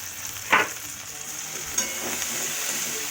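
Deseeded tomato added to hot oil with ginger-garlic paste for a potato and pea curry: a steady sizzle and frying crackle, with two sharp scraping stirs of the spoon against the pan, no talking.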